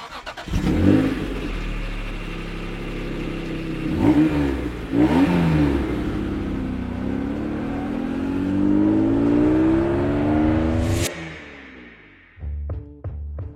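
A Honda NSX sports car engine revs hard through rising and falling gear changes, loud and close, then cuts off sharply before a few short rumbles.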